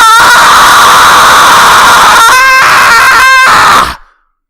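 A character in Ace Attorney: Justice for All lets out a long, very loud, strained scream lasting about four seconds before cutting off sharply into silence.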